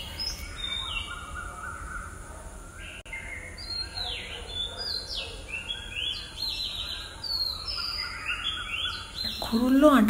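Birds chirp in the morning, a mix of short, high, overlapping calls and tweets from several birds at moderate distance over a quiet background. The calls grow busier toward the end.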